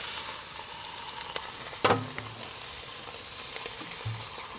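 Beef sizzles and fries in a hot pan for birria, a steady crackling hiss with a louder burst of spattering midway, close up and with no one speaking.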